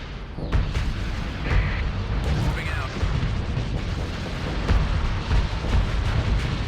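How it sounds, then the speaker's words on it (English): Laser weapon firing at a space station during combat in the Starsector video game with a Star Wars mod: a continuous, dense barrage of booming, rumbling bursts, steady and loud throughout. "So there's our laser. So that's what that does."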